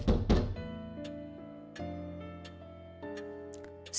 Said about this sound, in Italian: Si sente un forte suono che viene dalla porta